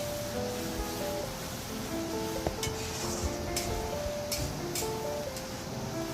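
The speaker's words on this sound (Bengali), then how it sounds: "ভালো করে দিয়ে এগুলি ভালো করে মশলাটা কিন্তু কষিয়ে নেব" Turmeric, chili and cumin powder sizzle steadily in hot oil as the spice base for chicken curry is sautéed, with a constant loud frying hiss and a few sharp scrapes of stirring.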